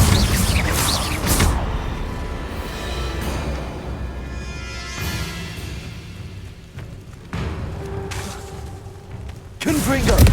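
A Confringo blasting spell in Hogwarts Legacy bursts with booming thuds and crackling debris, with a few loud explosive hits over a game soundscape and intermittent speech.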